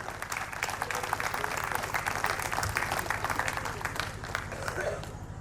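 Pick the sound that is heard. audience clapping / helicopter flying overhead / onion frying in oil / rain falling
audience clapping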